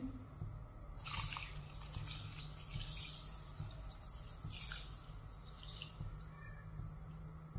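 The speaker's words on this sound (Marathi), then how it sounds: "आता ह्याच्यामध्ये पाणी घालून घेऊ" Water poured into a pan of sugar on a lit gas stove while making balushahi syrup; a soft, steady trickle with a few brighter splashy bursts, faint and continuous, no talking.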